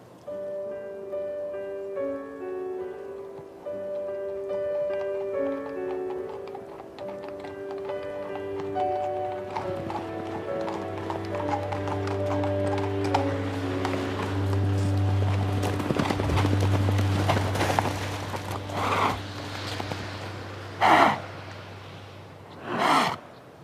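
Hooves of Franche-Montagne mares clip-clop on an old-style farm. They are faint at first beneath a melodic tune, then heavier, irregular knocks come over a steady low hum near the end.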